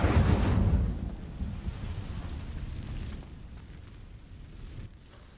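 Incendio fire spell igniting dry vines in Hogwarts Legacy, a loud, sudden whooshing burst that fades into a low, crackling rumble trailing off over several seconds.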